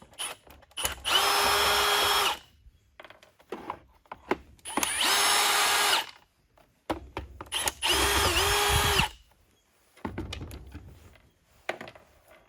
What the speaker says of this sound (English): So you have 1, 2, 3, 4 screws. They're Phillips heads. We're just going to pull these out.